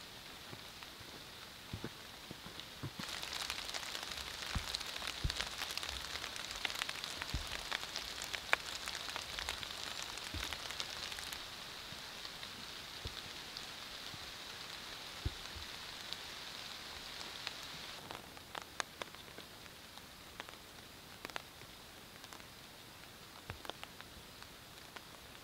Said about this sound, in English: It's not raining heavy, but it is raining constant